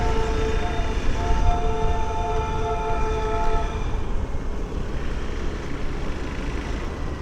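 The Darjeeling toy train passes on a hill route toward Darjeeling, rumbling loudly and steadily. A tonal horn or whistle sounds through the first half over the continuous din.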